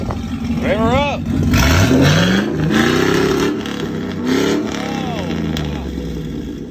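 An engine revs up and down in rising and falling sweeps, loud and close, with people talking over it.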